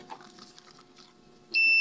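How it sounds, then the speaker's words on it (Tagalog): After quiet background noise, a multimeter's continuity buzzer gives a steady high-pitched electronic beep that switches on and holds continuously until the end, during washing machine repair. "Ilagay natin sa buzzer mga idol."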